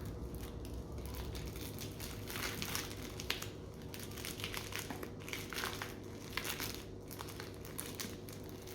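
Paper wrapping crinkles and rustles as it is peeled off a plant-based washed-rind cheese, in soft, close, uneven bursts with no talking.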